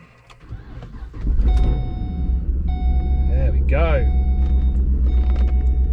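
An LS3 V8 car fitted with eBay turbos fires up on a dyno, then settles into a loud, steady idle rumble with some higher whines on top while someone talks briefly.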